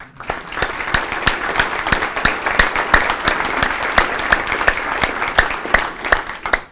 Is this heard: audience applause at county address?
yes